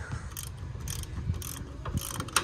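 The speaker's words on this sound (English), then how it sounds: "So you get your 15 millimeter right here. Break that loose." Mechanical ratcheting clicks from a 15 mm wrench loosening a bolt on the front brakes of a 2014 Polaris RZR 900, heard as several close, rhythmic bursts of clicking over low rattling handling noise.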